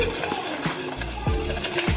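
Papdi gathiya batter being beaten by hand in a bowl, a rapid repeated rhythmic whisking and slapping with wet scraping strokes, close and steady throughout.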